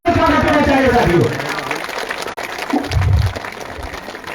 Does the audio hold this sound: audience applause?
yes